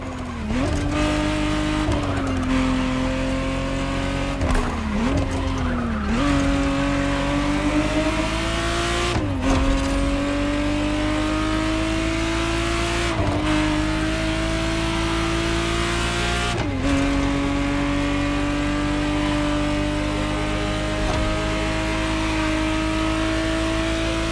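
A 1991 Ferrari Testarossa driven in the racing game The Crew Motorfest, its engine droning loud and steady, climbing through repeated gear shifts with short dips between them, with brief tire squeal.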